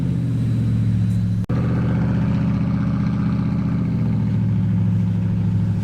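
A Cummins diesel pickup truck idles off-road with a steady, loud low rumble that holds through the clip, broken only by a brief dropout near the start.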